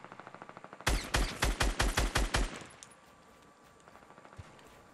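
A quick burst of about eight loud gunshots in a video game, fired in rapid succession, then fading into quiet game ambience.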